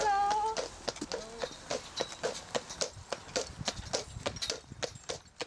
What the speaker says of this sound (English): I ran into a resident riding a horse-drawn carriage.